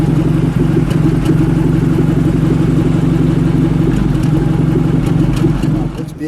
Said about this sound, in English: Listen to that idle for a second.